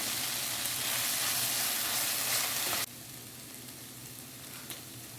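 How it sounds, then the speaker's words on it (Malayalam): Chopped tomato frying in oil with ginger garlic paste for an egg roast gives a loud, close, continuous sizzle that abruptly drops to a quieter steady frying hiss midway, with no voices. "തക്കാളി നന്നായി ഫ്രൈ ആയി വരുമ്പോൾ അതിലേക്ക് ഇഞ്ചി വെളുത്തുള്ളി പേസ്റ്റ് ചേർക്കണം"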